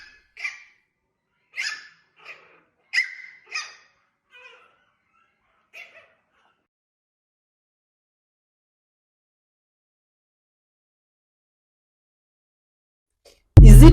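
A small dog yelps and barks in a quick, sharp series of about eight short calls over the first six seconds, then long silence before a sudden loud burst at the end.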